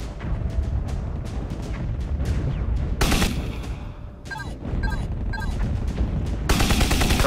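Gunfire from a drone in the video game Drone Shadow Strike: dense, continuous bursts of rapid shots and heavy impacts with loud blasts partway through, constant and close, no voices.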